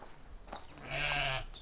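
A single sheep on a farm in the high Verdon Alps gives one wavering bleat, moderately close and lasting about half a second, over faint outdoor background noise.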